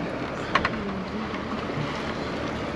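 A boat out on the open Atlantic Ocean off Cumuruxatiba, Bahia, during a humpback whale outing, giving a steady low rumble of engine and water with wind, plus two brief knocks near the start and no talk.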